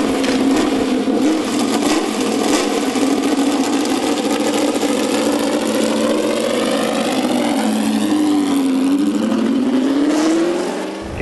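A Lotus-Ford 38/1 Indy race car, once driven by Jim Clark, runs at Indianapolis, its engine a loud, close, continuous roar whose pitch climbs and falls through steady revving with no talk over it.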